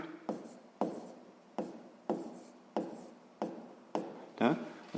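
A pen scratches out a math expression on paper in a sixth-grade exercise, with repeated short strokes falling in a steady rhythm, close and fairly soft.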